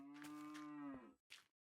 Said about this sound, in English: Look how many cows are spawning, dude.